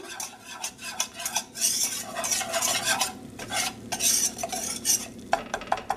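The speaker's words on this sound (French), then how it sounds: "Je réalise ma béchamel. Pour cela, je mets à fondre mon beurre. Puis j'y ajoute la farine. Je remue le tout." Flour is stirred into melted butter in a pan to make a béchamel roux for pumpkin and sausage lasagne, with scraping utensil strokes and a faint sizzle under them, close and without talk.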